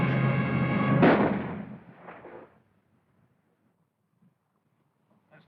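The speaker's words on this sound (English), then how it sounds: "Shoot, I tell you," Heavy gunfire and artillery fire from a 1936 film: a loud, dense barrage of booming blasts for about two seconds, then a few fading cracks before near silence with a faint noise at the very end.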